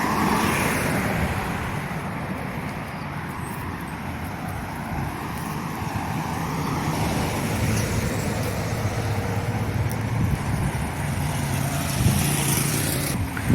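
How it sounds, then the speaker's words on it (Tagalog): Cars pass along a highway in Oman in a continuous wash of tyre and engine noise at moderate distance, steady and unbroken, with no talking. "Ayan, highway na yan dyan, oh. Kung may nakita kayong mga dumadaan ng sasakyan."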